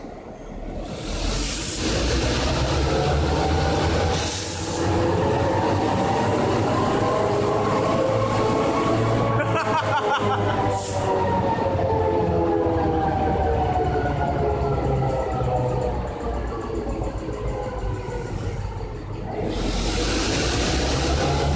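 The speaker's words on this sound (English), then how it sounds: "the engineer throttles up the train slowly because the train is departing" A locomotive on the WW Railroad's C&M Line rumbles steadily with rising engine drone and hiss as the engineer throttles up, wheels clattering faintly as the train pulls away and gathers speed, loud and close throughout.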